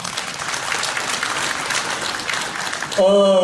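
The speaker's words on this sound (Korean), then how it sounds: "박수 한번 해주시죠" Applause from an audience of about 400 loss adjusters at a gathering, a continuous wash of many hands clapping that cuts off near the end as a voice over a loudspeaker begins talking.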